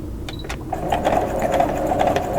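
A domestic sewing machine runs steadily, stitching through a pieced quilt block, its whirring motor and needle chatter continuous and close, with a few light clicks at the start before the stitching settles into an even hum.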